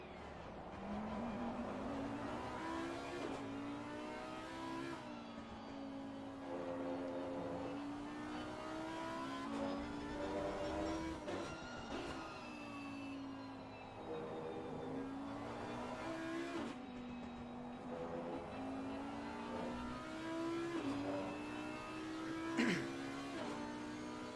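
Audi GT race car engines in Assetto Corsa Competizione at the Nürburgring, a steady layered drone of revving and shifting motors that rise and fall continuously, with a commentator talking over the racing.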